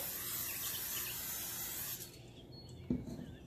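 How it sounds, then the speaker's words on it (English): Cooking oil spray hisses steadily for about two seconds into an air fryer pot, then stops, followed by a short knock and quiet room tone. "oil to spray as we are making it in air fryer. Spray the pot from inside."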